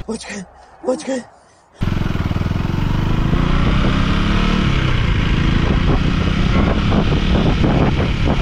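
A geared motorbike ridden without the clutch on a road near Rajodi beach in Virar, its engine droning steadily and loud from about two seconds on, after a short stretch of speech at the start.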